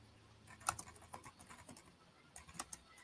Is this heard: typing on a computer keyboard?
yes